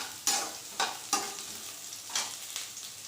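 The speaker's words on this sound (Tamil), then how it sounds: "வெங்காயம் இப்படி கொஞ்சம் பொன்னிறமாக வதங்கினதுக்குள்ளேயும்" Onions fry in oil until golden for a homestyle chicken gravy, a soft steady sizzle broken by several sharper stirring scrapes spaced irregularly, fairly quiet and close, with no voices.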